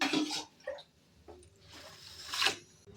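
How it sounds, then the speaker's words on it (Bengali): Rice is rinsed in water ahead of making chicken pulao, giving close, loud sloshing swishes at the start and again near the end, with quieter trickling in between and no talking. "চালটা আমি ভিজিয়ে রাখবো, ভালো করে একটু ধুয়ে নিই"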